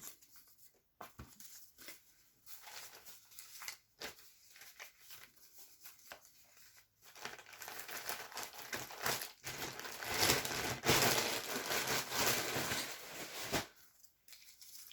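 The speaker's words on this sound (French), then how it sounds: "Donc, on range les papiers." Sheets of paper left over from a mixed-media collage card are gathered and put away, giving a run of close crinkling, rustling and tearing-like crackles that grows busier and louder midway, with brief handling taps and no talk.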